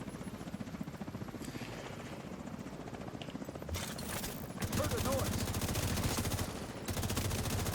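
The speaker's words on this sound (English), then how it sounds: "Oh, yeah, there's one more chopper." Helicopter rotor thump in a game scene, a steady fast chopping pulse that swells louder midway as another chopper arrives, mixed with gunfire.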